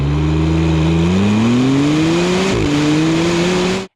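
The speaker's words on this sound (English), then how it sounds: "At the heart of the Artura Spider is a 3-liter twin-turbocharged V6" McLaren Artura Spider with a 3-liter twin-turbocharged V6 accelerating hard, its loud engine note climbing steadily in pitch with a brief shift-like dip midway, then cutting off abruptly at the end.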